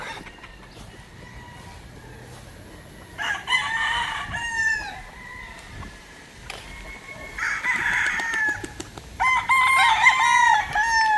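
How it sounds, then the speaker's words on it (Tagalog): Broodcock roosters at a gamefowl farm in Bacolod City crow in several loud, drawn-out calls from fairly close, with softer clucking between them over a quiet outdoor background. "Mga pinapalugon na mga broodcock."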